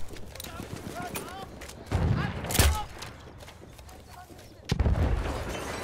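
Battlefield 1 gunfire and explosions in a chaotic game battle, with heavy booming bursts around two and five seconds amid steady background noise and scattered shots.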